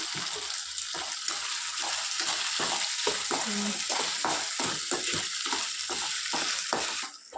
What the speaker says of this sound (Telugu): ఇలా మ్యాష్ చేసుకుంటూ వీటిని ఫ్రై చేసుకోవాలి.